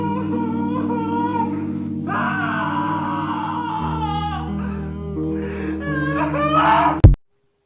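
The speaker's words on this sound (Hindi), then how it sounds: "ये देखी रूम से इतनी चलाने की और रोने की आवाज़ें क्यों आ रही हैं?" Someone cries and wails loudly and continuously from another room, with long, wavering moaning sobs and gasps over a steady background music bed, cutting off abruptly at the end.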